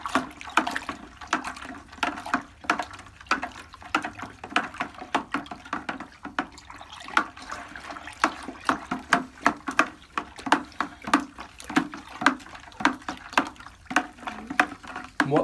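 A spoon stirs sugar into apple juice for homemade cider, giving a steady run of quick, close liquid swishes and clinks that continues throughout.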